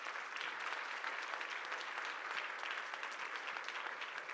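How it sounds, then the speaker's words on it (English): A conference audience applauds its panel after a discussion on AI and elections, giving a continuous, even wash of clapping from many hands, sustained at a steady level throughout without speech. "Let's give a round of applause for our panel."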